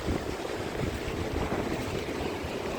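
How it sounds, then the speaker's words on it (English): Strong wind buffets the microphone at a beach in Newport, Rhode Island, a loud continuous rushing roar with low rumble and no pauses. "the wind is really giving it good"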